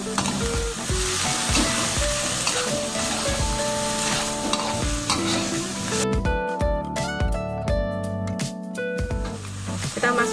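Shrimp stir-fried in a pan with oyster sauce, soy sauce and sesame oil, giving a steady close sizzle with stirring scrapes throughout and no talking.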